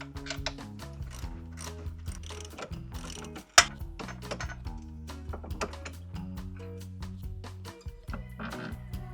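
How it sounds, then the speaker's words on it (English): A ratchet wrench loosens the U-bolt nuts on a Club Car Precedent golf cart during a Rhox 6-inch lift kit install, giving repeated fast ratcheting clicks in bursts with brief pauses, close and clear with no speech. "we're going to be removing these nuts from this U-bolt"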